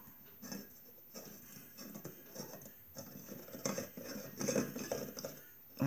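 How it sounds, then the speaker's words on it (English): A 250 watt self-ballasted mercury vapor bulb being screwed into a ceramic lamp holder, producing faint scraping, ticking and clinking of glass and metal against ceramic in small irregular bursts, close up and quiet. "I'm going to put it into the socket now"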